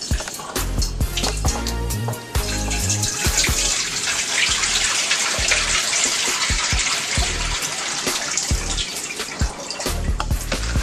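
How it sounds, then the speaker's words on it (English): Water poured off chopped chicken and deveined shrimp, splashing steadily and loudly for the whole stretch, with a brief lull near the start before the stream resumes. "we're just going to pour the water off of them"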